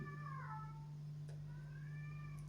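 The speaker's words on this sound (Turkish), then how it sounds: "kedim Berlin kapı kapalı diye miyavlıyor" A domestic cat meows at a closed door, two drawn-out, rising-and-falling meows with a pause between, close and fairly quiet over a steady low electrical hum.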